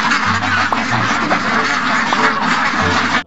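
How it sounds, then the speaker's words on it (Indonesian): A cartoonish duck quacks repeatedly in a dinosaur-themed video game, loud nasal calls over a busy, noisy game soundtrack. "Oho, bebek."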